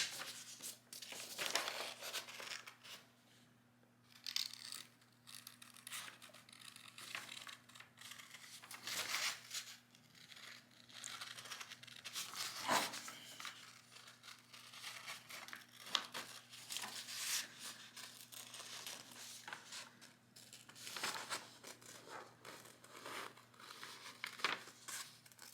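Scissors cutting out paper flower shapes, a quiet, close series of irregular snips and rustling, crinkling paper sounds spread across the whole stretch, with no talking.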